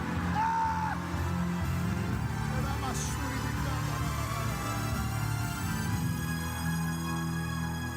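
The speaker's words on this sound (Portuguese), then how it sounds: "Dê um berro de glória a Deus bem forte." A church congregation at an evening service shouts glory to God together, a loud sustained crowd of yells and whoops that fills the whole stretch.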